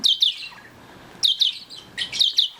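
Baby Bourke parakeets chirp during hand feeding. They make high, rapid chirps and squeaks in three clustered bursts separated by brief quiet gaps, close and fairly loud.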